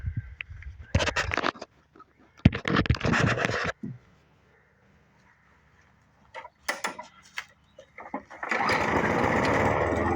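A lawn mower engine cranks in short bursts with gaps of quiet and mechanical clicks between tries, then catches and runs steadily, close and moderately loud.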